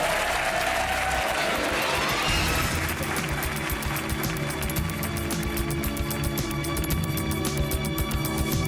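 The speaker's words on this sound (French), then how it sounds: "On applaudit monsieur." A studio audience breaks into sustained applause on a French television show, dense clapping filling the room steadily throughout, with cheering voices mixed in.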